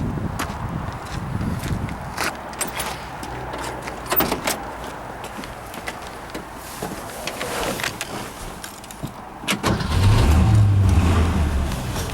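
A 1962 Mercury Meteor's engine cranks and fires up, then settles into a steady idle with a few sharper bursts and a louder, heavier rumble near the end, heard up close in a car lot.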